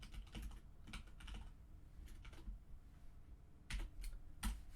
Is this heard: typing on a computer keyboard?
yes